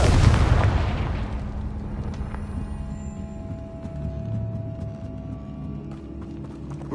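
A Confringo explosive spell cast in Hogwarts Legacy detonates with a loud booming blast at the start, then trails off into a ringing, crackling decay over lingering game ambience.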